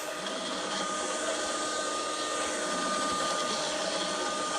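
Steady, loud whooshing drone of a vacuum cleaner running continuously in a video game, a broad constant roar with no talk over it.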